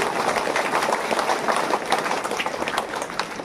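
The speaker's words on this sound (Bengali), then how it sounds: "ওনার জন্য একটা জোরদার হাততালি" A school audience at a Gunotsav 2025 event claps steadily, a dense, even patter of many hands held at moderate loudness without pause for a few seconds.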